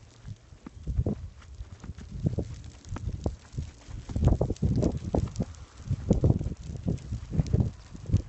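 A prescribed back burn crackles and roars in gusts along a fire line against the wind, a rough, uneven rumble with wind buffeting the microphone, fairly close and loud.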